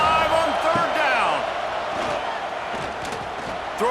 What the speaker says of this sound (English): The Buckeye crowd are live on 3rd down.